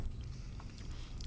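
Crunchy chocolate is bitten and chewed close up, a soft, continuous crackling crunch at low volume with no talking.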